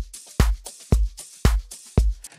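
Deep house drum pattern built in FL Studio, rim shot now layered in with the clap, kick and hats, four steady punchy kicks over a busy tight groove, alone and loud.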